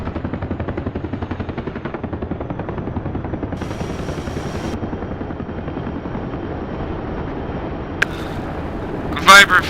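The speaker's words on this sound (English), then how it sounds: "Multiple technical small arm fire." Multiple technicals firing small arms in DCS World, rapid gunfire bursts under the constant drone of a UH-60L helicopter, with radio chatter over the top.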